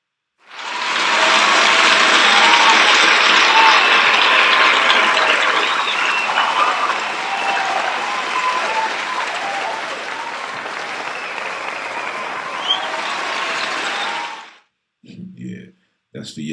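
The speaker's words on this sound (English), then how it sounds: "Round of applause for all those that be tuning in, supporting off the gate" A crowd gives a round of applause, a loud, dense wash of clapping that holds steady for about fourteen seconds, slowly eases off, then stops abruptly.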